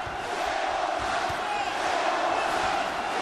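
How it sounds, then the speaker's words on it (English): A large crowd roars continuously in an arena at a K-1 Grand Prix kickboxing match, a steady, loud wash of cheering and shouting with no breaks. "And listen to this crowd."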